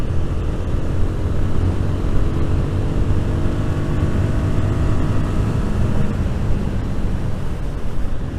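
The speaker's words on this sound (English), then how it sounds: "Don't know if you can hear the intake roar." Royal Enfield Guerrilla 450 motorcycle riding down country lanes, a steady, loud engine and intake roar with low rumbling throb held continuously throughout, mixed with wind rush.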